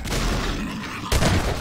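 A burst of explosion and gunfire-like blasts in the video game Half-Life 2: Episode One, loud and close, with a sharp heavier impact about two-thirds of the way through.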